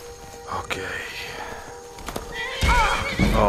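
A horse neighs and whinnies in Skyrim VR, with clip-clop hooves and a louder burst of whinnying near the end, under faint game ambience and a low voice.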